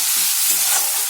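A spoon stirring ground turmeric, cumin, coriander and chili powder with chopped tomato and salt in a hot pan for Bengali small-fish curry, a steady close scraping with soft sizzling throughout.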